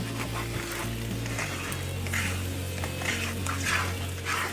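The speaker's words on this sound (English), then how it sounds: "So, a little spatula, and you just mix it up in there." Eggs fry in a pan with a steady sizzle while a spatula stirs and mixes them, producing soft scraping and clinks against the pan over a low background hum.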